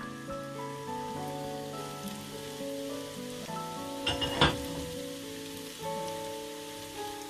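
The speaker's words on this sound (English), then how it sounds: "You can hear that start to sizzle." Onions sizzle steadily in a hot pot, a soft continuous crackle under background music, with a brief louder clatter midway.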